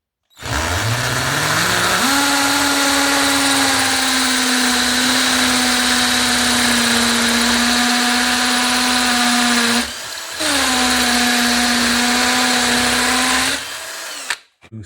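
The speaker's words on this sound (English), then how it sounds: "Drill the wall with a 6mm masonry bit." A power drill with a 6mm masonry bit drills into a wall, whining loudly and steadily up close, pausing briefly once before running on, then stopping at the end.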